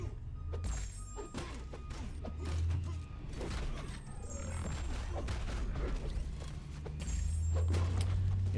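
A garbage truck passes outside, heard as steady low mechanical rumble with creaks, clanks and thumps of its machinery running through the whole stretch, moderately loud and continuous.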